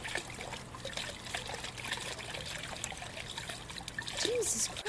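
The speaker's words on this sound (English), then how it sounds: "Something's dripping, but..." Dripping water in The Crooked Man horror game, a steady patter of small drops that continues throughout, with a short tonal chirp near the end.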